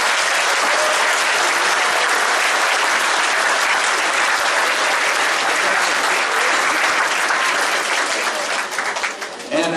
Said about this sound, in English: So can we have a round of applause specifically for our fifth graders?